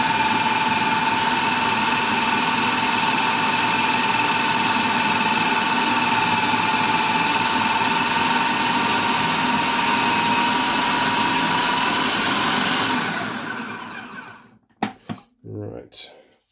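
A food processor blitzes gingerbread dough, a loud steady motor whine and whir running for about thirteen seconds before spinning down, followed by a few short bursts of talking.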